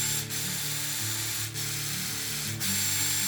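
A Braun Silk-épil 9 Flex electric epilator runs with a steady, close mechanical whirring buzz, interrupted by a few brief dips, with no talking.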